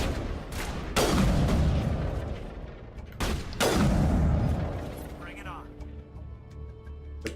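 Pistol shots in Mass Effect Legendary Edition, two heavy booming reports roughly two and a half seconds apart, each trailing into a long decaying rumble, with someone talking over the game.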